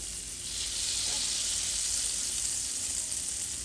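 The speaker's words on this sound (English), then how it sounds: "I'll start melting our butter" Butter melts in a pot already warm on a stove set to medium heat, sizzling and hissing steadily at close range with no voices.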